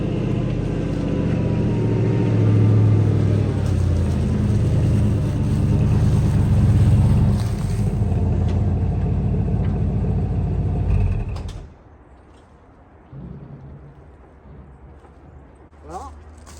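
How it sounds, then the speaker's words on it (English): A pickup truck in two-wheel drive creeps uphill with a loud, steady low engine rumble and drivetrain drone that cuts off sharply, leaving quiet with a few faint knocks. "we creep up here in two-wheel drive"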